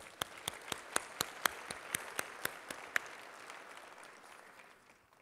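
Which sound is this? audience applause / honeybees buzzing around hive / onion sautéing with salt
audience applause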